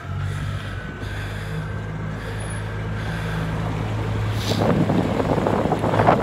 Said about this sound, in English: hopefully with that wind, when I'm going against it, it's only the slightest of wind